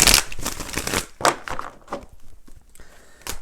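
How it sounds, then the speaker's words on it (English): Tarot cards being shuffled by hand, several quick riffling bursts separated by brief pauses, close and fairly soft. "let's go ahead and do 4 major shuffles"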